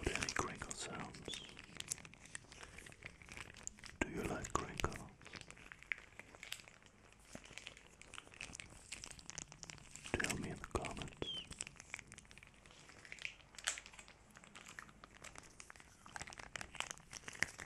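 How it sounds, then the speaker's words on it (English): Crinkling and rustling of material close to the microphone for a relaxing sleep routine, soft irregular crackles and crunches running throughout at low volume, with quiet whispering underneath. "I refuse to make an ASMR video without any crinkle sounds."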